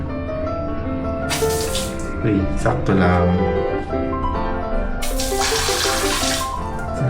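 Strong water spray from a bidet in an airplane toilet, rushing steadily and close throughout, with a person talking briefly over it.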